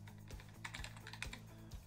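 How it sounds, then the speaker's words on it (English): Rapid keystrokes on a computer keyboard, typed steadily at close range under a low constant hum, with no voices. "So if I just start typing something,"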